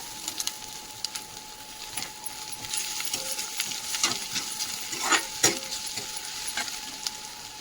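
Ginger garlic paste sizzling in a hot pan with onion, green chilli and curry leaves, a steady frying hiss broken by scattered scrapes and taps of stirring, heard close and with no voices.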